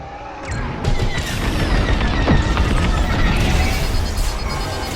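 Missiles striking a ship in the Star Wars Squadrons space combat game, a heavy rumbling blast followed by sustained crashing, roaring debris and mechanical noise, loud and dense, with no talking.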